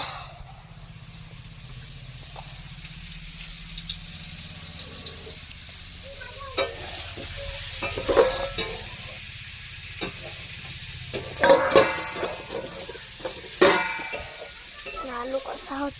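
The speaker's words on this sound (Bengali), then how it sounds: "আলু কষা হচ্ছে।" Potatoes stir-fried in a pan in a home kitchen: steady sizzling with intermittent scraping and stirring clatters of a utensil, fairly close, with no one talking over it.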